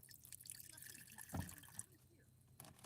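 A little water poured into a pan sprayed with vinegar, a brief faint splash and trickle in a kitchen, close and soft amid low background noise.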